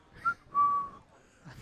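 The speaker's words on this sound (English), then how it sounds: "Starts whistling a tune like we're down the mine, hacking out pieces of granite." A person whistles a short tune in a press room, two brief clear notes followed by a longer held note, fairly close and alone with no talking.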